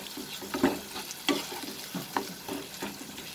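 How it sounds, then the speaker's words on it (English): Masalas and tomatoes for an egg and chana dal curry sizzle in a pan over a medium flame, with close, steady frying crackle and a regular stirring scrape roughly every half second to second, no voices. "Now we'll cook all the masalas along with the tomatoes over a medium flame till the tomatoes becomes nice and soft"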